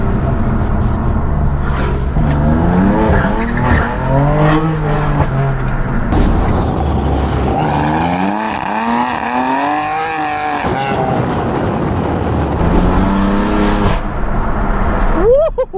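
A BMW M4 engine revs and roars hard through shifting gears on London streets, loud and close, with squealing tires and brief voice over the driving.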